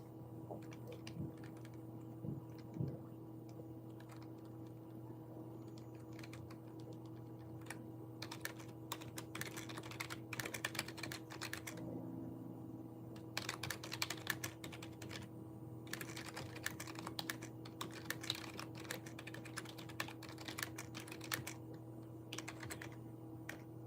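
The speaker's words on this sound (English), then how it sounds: "I've been typing out all like the lyrics whenever I get a direct quote" Someone types out song lyrics on a computer keyboard, producing quiet, rapid clicking in irregular bursts with brief pauses over a steady low electrical hum, close and soft, with no talking.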